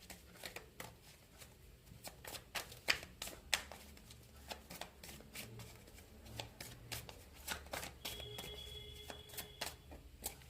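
Tarot cards shuffled by hand, a steady run of crisp riffling slaps and flutters at close range, with a faint low hum underneath and no talking.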